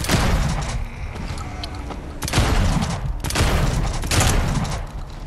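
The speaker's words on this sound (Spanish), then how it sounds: "Sí, 6 tiros de rifle de este." Rifle fire in the video game Dead Island 2, several loud booming shots in quick succession over busy game noise.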